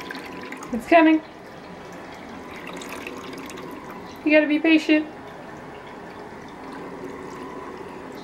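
Filtered water runs steadily and pours into a dog's bowl, a continuous wash of flow under two short bursts of nearby speech.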